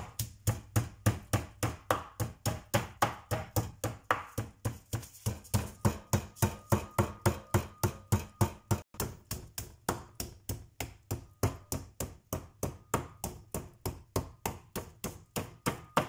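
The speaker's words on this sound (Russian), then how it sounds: "И каждый кусочек отбиваю хорошенько с двух сторон." Meat pieces pounded with a mallet on both sides, a steady run of dozens of sharp, evenly spaced thuds, close and loud, continuing without pause or talk.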